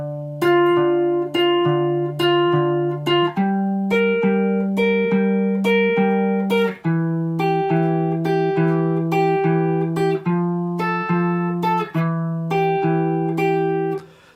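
The full first line of a riff on guitar: a steady run of picked single notes, repeated note figures shifting up and down in pitch across the phrase, played close and clean with no voices.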